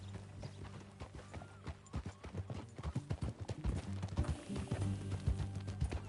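Hooves clatter in a quick, rhythmic clip-clop as a horse gallops close by in Red Dead Redemption 2, the beat growing denser and louder over a few seconds.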